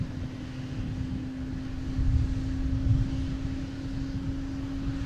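An Airbus A220 airliner at Boston Logan airport drones steadily in the distance, its engine whine a low, continuous hum with a faint tonal line that swells slightly midway.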